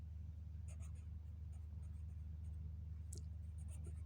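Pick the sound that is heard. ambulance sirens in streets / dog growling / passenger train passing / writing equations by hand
writing equations by hand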